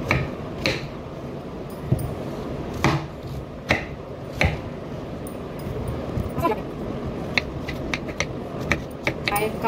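A knife chops vegetables such as pumpkin and other fasting vegetables on a board for a Navratri mixed vegetable dish, giving irregular sharp close chops over a steady background hum.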